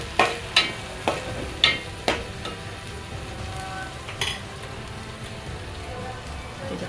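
Vada pav filling with spice paste and coriander stirred in hot oil until the oil separates, a few sharp scraping clicks of the spoon early on over a steady soft sizzle.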